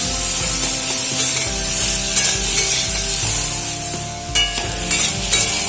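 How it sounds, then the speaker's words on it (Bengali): Fresh vegetable stems stir-fried in a pan for a vegetarian dish, steady crackling sizzle with repeated spatula scrapes and a sharper clatter near the end, over a low hum, no speech. "ডাঁটাগুলো দিয়ে মিনিট 3 মতো নাড়াচাড়া করে ভেজে নিলেই হয়ে যাবে"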